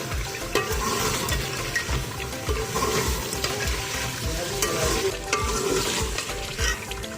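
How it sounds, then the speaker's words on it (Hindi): Arvi pieces frying in spiced ghee over full flame, a loud dense sizzle with steady stirring and scraping in the pan throughout. "इसी घी के अंदर हम इसको 5 से 7 मिनट फ्राई करेंगे। फुल फ्लेम पर अच्छे से फ्राई करेंगे।"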